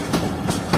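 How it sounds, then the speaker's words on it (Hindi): Rehman Baba Express rolling through a foggy winter night, its wheels beating a steady clickety-clack rhythm of repeated bursts over a continuous rumble, close and fairly loud with no voices. "तो दोस्तों ये हमारी ट्रेन मीरपुर माथिलो रेलवे स्टेशन को स्किप कर रही है।"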